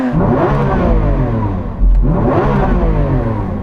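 A Lamborghini Aventador SVJ revs hard and loud, its engine roar building, dipping briefly, then surging again in a second sustained rev, with no talking over it.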